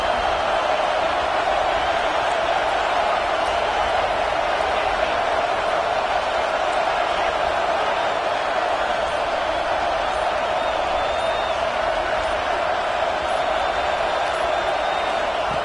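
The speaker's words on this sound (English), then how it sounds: "Listen to this crowd just shaking the girders of this place" A packed college football stadium crowd at an Alabama versus Texas game roars steadily for the home defense, a dense continuous wall of cheering that never lets up across the whole stretch.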